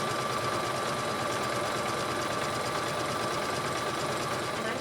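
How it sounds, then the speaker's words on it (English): A sewing machine runs continuously, zigzag stitching along the edge of an apron seam with a fast, even mechanical whir and no pauses. "I'm going to come back and I'm going to zigzag right along the edge to finish that seam"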